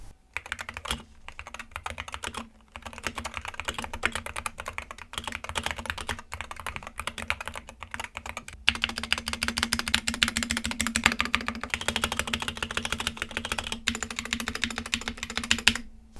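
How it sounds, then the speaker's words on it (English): Rapid, steady clatter of keys on a Wooting 60HE mechanical keyboard, stock out of the box, loud and close, with brief pauses between bursts of typing. "Now let's hear what the keyboard sounds out of the box."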